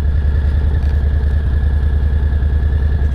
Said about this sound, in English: your revs are really just above idle, maybe 1500 RPMs